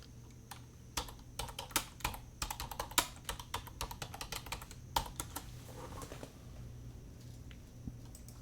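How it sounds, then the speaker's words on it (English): Someone types on a computer keyboard at close range, with bursts of quick, crisp key clicks in irregular rhythm and short pauses between runs, thinning out toward the end. "And I'll type that in here."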